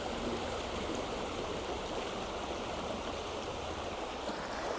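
A shallow, widening river flowing over rocks and boulders, a steady broadband rush of water that stays even and continuous throughout with nobody talking.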